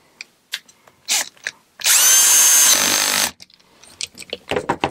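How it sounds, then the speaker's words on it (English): A Bosch 18-volt cordless drill set to torque 7, fitted with a 7mm bit, drives a wheel nut in one loud, steady whir of about a second and a half. Quiet clicks and handling knocks come before and after it. "This is a Bosch 18 volt set to torque number 7."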